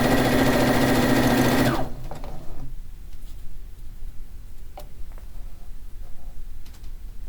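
A sewing machine runs loudly and steadily while stitching quilt fabric for a fish quilt, then stops abruptly, leaving quiet room sounds and a few faint handling taps.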